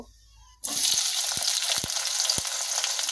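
Chopped onions drop into hot oil with bay leaves and start frying loudly, a sudden burst of sizzling after a quiet moment, with a few stirring clinks.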